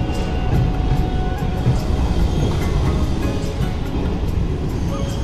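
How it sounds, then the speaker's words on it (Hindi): A passenger train rolls slowly along the rail line on a long overnight journey from Indore to Jabalpur, a steady low rumble and rattle of the carriages filling the clip without pause, with no talk over it. "ये ट्रेन जो है दोस्तों बहुत धीरे चल रही है"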